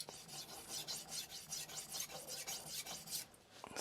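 A knife blade scraping back and forth across a vitrified diamond whetstone during sharpening, a steady run of close, gritty rasping strokes with no talk.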